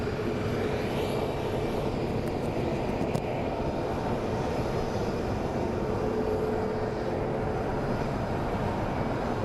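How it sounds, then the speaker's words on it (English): An American Airlines airliner departs for London, a dense, continuous engine roar holding steady and loud throughout, with no voices over it. "that is our big boy, American Airlines, departing for London"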